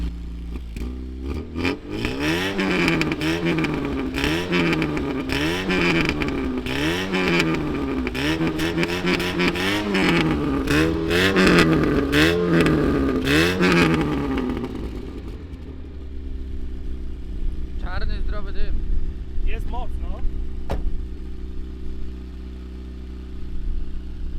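Opel Kadett car engine, a car with a fault, running close by with a rough, rhythmic rise and fall of repeated revs for about fifteen seconds, then dropping to a low, steady idle with a few faint clicks and no talking.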